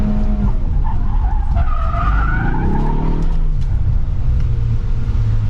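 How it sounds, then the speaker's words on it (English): A 2024 Ford Mustang slides through a drift with loud tire squeal and skidding over a rumbling engine, the screech rising mid-slide before the engine settles into a steady low drone. "So here we go, drift time."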